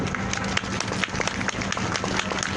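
A crowd at the 1422nd Wednesday protest rally claps in a dense, continuous burst of applause for a couple of seconds.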